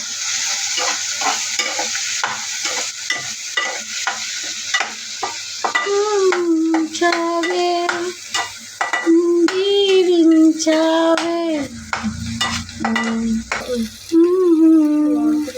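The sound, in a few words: stirring curry in a pan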